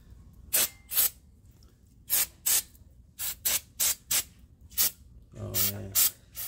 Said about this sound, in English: Use some brake cleaner for that.